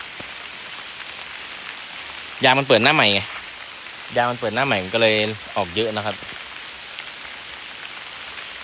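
Steady rain patters down across a rubber plantation and runs down the tapped trees. The hiss is constant throughout, with someone speaking briefly over it.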